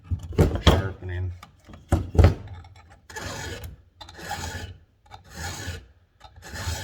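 A hand file rasps across the rakers of a chainsaw chain during saw sharpening, with repeated scraping strokes of varying length and short pauses, close and fairly loud.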